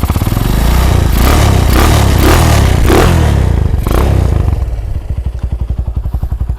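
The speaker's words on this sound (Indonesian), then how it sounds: "ini suara mesinnya ya, jadi kita dekatkan ke mesin biar teman-teman tahu." A custom Honda CB motorcycle engine runs up close, loud and churning with mechanical clatter and a few swells of revving, then settling into a slower, distinct idle thump near the end.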